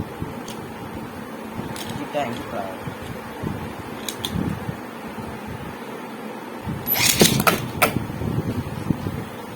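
A Beyblade Xiphoid Xcalibur spinning top is launched and whirs in a stadium battle, with a sharp burst of scraping clicks partway through over a steady room fan hum.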